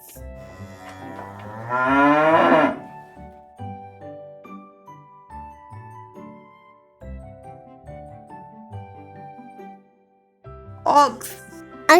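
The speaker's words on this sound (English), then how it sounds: "Cow. Cow." A cow lets out one long, loud moo up close, followed by quieter clinking and shuffling, then a second shorter lowing call near the end.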